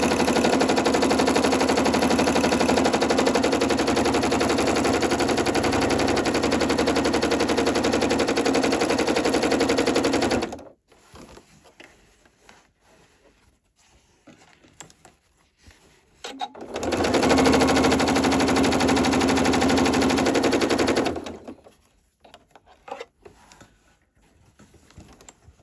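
A sewing machine stitches around fabric robin wings in two steady, close bursts of rapid needle chatter, each roughly five to ten seconds long, separated by a pause of near silence.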